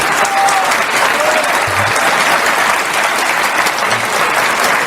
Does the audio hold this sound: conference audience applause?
yes